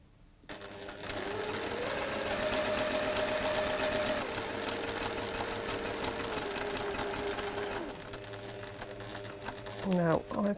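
A sewing machine runs steadily, stitching a quarter-inch seam along a fabric strip, with a continuous close whirring hum for most of the stretch before it slows and stops; a voice talks briefly near the end.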